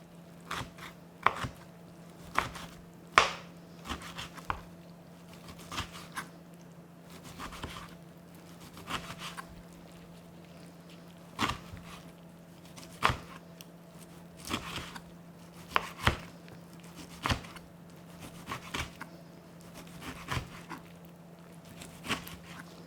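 A knife chops kimchi into small pieces on a cutting board, with irregular sharp taps, some in quick clusters, over a steady low hum.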